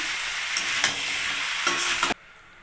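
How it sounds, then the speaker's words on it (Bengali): Boiled potatoes stirred into a frying curry of ash gourd and rohu fish, a steady close sizzle broken by a few scraping stirs before the frying cuts off abruptly near the end. "এখন সিদ্ধ করে রাখা আলুগুলো দিয়ে দেবেন, দিয়ে একসঙ্গে নাড়াচাড়া করে নেব।"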